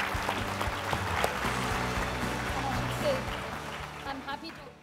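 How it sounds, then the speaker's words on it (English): Audience applause at an academic awards ceremony honoring a paper, a steady patter of clapping from a room of people lasting several seconds, with a speaker's voice over it. "let's applaud Anandi again for her excellent paper"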